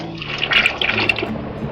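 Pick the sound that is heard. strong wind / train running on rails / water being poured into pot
water being poured into pot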